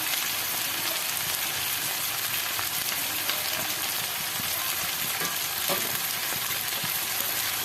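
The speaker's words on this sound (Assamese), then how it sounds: "এইখিনি এতিয়া গোটেইখিনি এনেকৈ ভাজিম" Red chilies and spices fry in a pan, giving a steady, close sizzle with faint stirring scrapes throughout and no voices.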